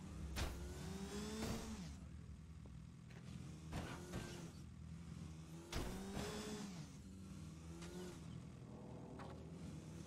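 A motorcycle engine in Dead Rising 3 revs in three or four rising bursts between quieter idling stretches, heard faintly against a low in-game backdrop with no talk.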